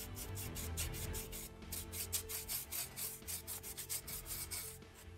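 A paintbrush overbrushes grey paint onto vertical stonework on tabletop terrain, giving a rapid series of close, dry scratchy rubbing strokes in a steady rhythm.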